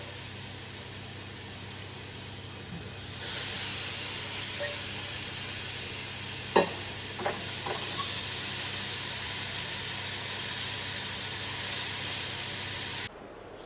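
Steady loud hiss of food frying in a pan, swelling slightly partway through, with a couple of faint clinks, then cutting off abruptly near the end.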